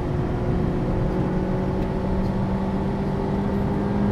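Honda Civic Type R (2017) engine pulling at full throttle, a steady loud drone heard from inside the car with a constant engine hum and no talk.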